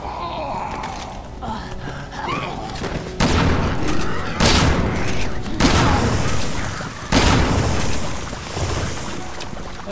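Shotgun blasts boom heavily in Resident Evil 6 amid noisy game combat, several broadband shots landing a second or two apart beneath game sounds and gasps.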